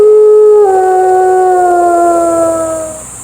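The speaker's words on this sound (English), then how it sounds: "Wolf." A wolf lets out one long, loud, close howl that holds a steady tone, then slides lower and fades away at the end, heard alone.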